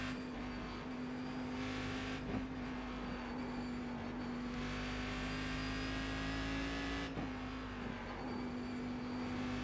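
A Cadillac race car in the iRacing simulator at Bathurst drones under steady throttle, its engine note holding a strong, even pitch with brief dips around gear changes, loud and close with no voices.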